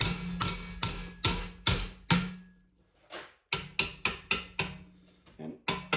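A metal strip held in a vise is struck repeatedly with a hammer to bend it to 90 degrees: sharp, ringing blows land in a steady rhythm, break off briefly, then resume in a quicker series of close, loud strikes.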